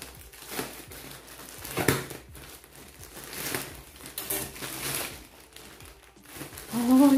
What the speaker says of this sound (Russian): открываем наш пакет